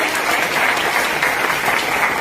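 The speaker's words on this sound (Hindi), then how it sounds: "बहुत ही जोरदार तालियां उनके लिए।" A crowd of audience members at a business event claps loudly and continuously, a thick, even burst of applause with no speech over it.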